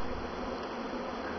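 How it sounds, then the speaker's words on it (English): A dense, steady buzzing of many honey bees swarming close by, continuous and even with no talking. "As you can see, thousands of bees."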